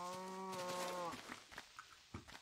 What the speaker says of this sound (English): I keep hearing the other cows and stuff walking,